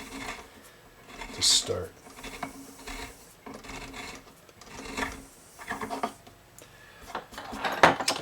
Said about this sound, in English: I'm going to take the reamer and I'm just going to chamfer out this hole a little bit, ream it out